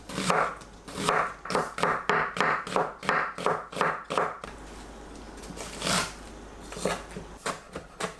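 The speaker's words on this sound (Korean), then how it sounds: "양파 반 개를 채 썰어주세요." A knife cuts half an onion into thin strips on a board, a steady run of crisp, close chopping taps that briefly pauses and then resumes in a slightly slower rhythm, with no talking.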